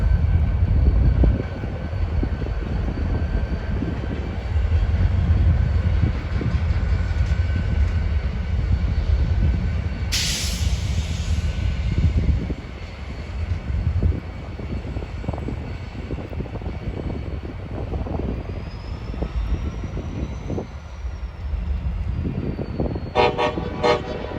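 A CSX freight train pulling two covered hopper cars rumbles past loud and close, with a steady heavy roll, a brief horn blast partway through, and a fainter rising tone near the end.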